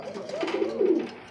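Double-crested pigeons kept for sale give a low, soft cooing call that swells in the middle, close and steady over faint background noise.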